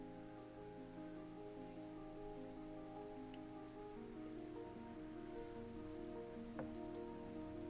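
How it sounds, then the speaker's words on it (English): Steady rain pattering on a surface, layered under a soft, sustained chill video game music remix with gentle tones, quiet and continuous throughout. "Oh, it's a remix with rain sounds"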